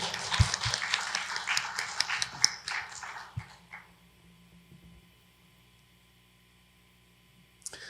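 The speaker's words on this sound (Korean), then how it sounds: "우리 예배를 받아주신 주님께 다시 한번 우리 감사의 박수 올려드립시다." A congregation at a Thursday worship and praise gathering at a church in Gonjiam applauds in thanks, dense clapping for about three seconds that thins out and fades into near silence, with a faint stray clap at the end.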